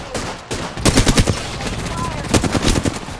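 Rapid bursts of automatic gunfire from a video game, with loud clustered volleys in two main bursts separated by a brief lull.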